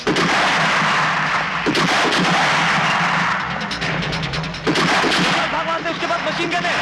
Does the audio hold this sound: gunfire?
yes